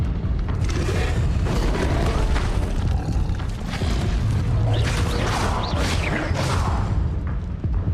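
Repeated Incendio fire spells cast in Hogwarts Legacy during the Trials of Merlin, producing continuous loud booming, fiery bursts and crackling impacts with no pauses, layered over game music and ambience.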